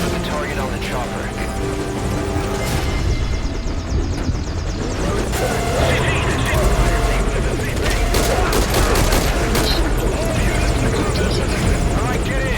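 A helicopter in a video game whirs loudly and steadily throughout, with bursts of gunfire and talking voices over it.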